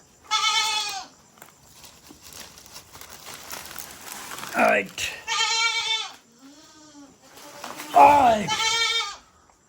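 Several loud goat bleats up close, separated by pauses, with a person speaking briefly between them and some rustling of grass.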